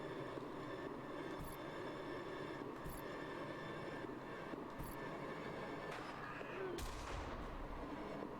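Shotgun blasts in the video game Penance, four evenly spaced sharp shots over a low, steady rumbling game backdrop, the last one heavier with a trailing boom, with no talking.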